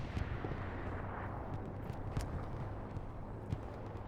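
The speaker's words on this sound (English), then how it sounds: "I think we are seeing some more explosions out here to the west." Explosions in a tank battle video game, with scattered dull booms and sharper cracks over a constant rumbling din, several distinct hits standing out near the middle and end.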